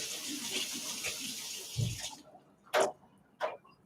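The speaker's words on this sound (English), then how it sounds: "So we're going to wash this potato." Running tap water rinses a potato at a kitchen sink, a steady broadband rush for about two seconds, then cutting off and followed by a few brief knocks and clatters.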